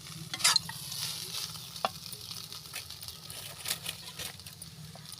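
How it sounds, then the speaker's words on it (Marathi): Poha fries in a pan for Vidarbha-style tarri poha, a moderate, continuous sizzle with repeated soft stirring scrapes and taps close by. "पोहे टाकले आहे पोहा होऊ द्यायचा थोडासा"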